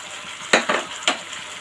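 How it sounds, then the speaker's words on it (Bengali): Finely ground coconut paste goes into a frying pan for a prawn malai curry, giving a few short sizzling scrapes and stirs with no one speaking. "এই তো নারকেল দিয়ে দিব সুন্দর করে ফাইন করে আমি বেটে রেখেছি"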